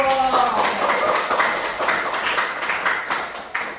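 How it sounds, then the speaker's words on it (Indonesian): A classroom of vocational students in a Grade XI computer networking lesson breaks into applause, a dense run of overlapping claps that fades gradually over a few seconds after a brief voice at the start. "Beri tepuk tangan dulu."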